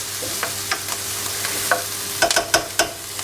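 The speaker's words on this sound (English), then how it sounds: "I'm going to let this pan cool down for a moment while I stir this onion around" Onion stirred around a hot frying pan, a low steady sizzle under scattered scraping clicks of the utensil that bunch into several sharp knocks near the end, with no voices.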